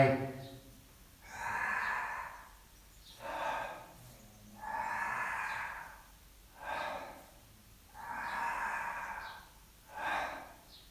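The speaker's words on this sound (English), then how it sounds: "as I breathe in with my mouth open" Slow, deliberate breaths drawn in through an open mouth during a posture and breathing exercise, six airy inhales in steady rhythm, close and fairly soft, with no talking.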